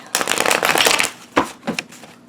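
A Golden Tarot card deck riffled and shuffled up close, a dense burst of flapping card noise for about a second followed by a few shorter slaps and riffles.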